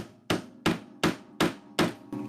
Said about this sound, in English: you can see how easily it goes in if you use a hammer